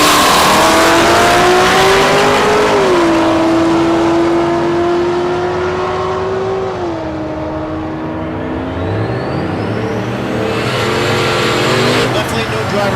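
Drag racing cars, including a Mustang, launch down the strip at Thunder Valley in Noble, Oklahoma, with a loud sustained engine roar that rises and shifts pitch, while an announcer talks over it.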